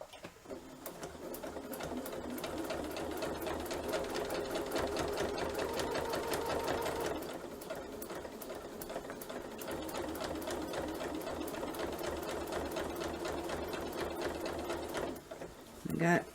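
Sewing machine runs in a steady, fast continuous stitching rhythm while piecing a crazy quilt block, close by, with a brief pause partway through and a short clunk near the end.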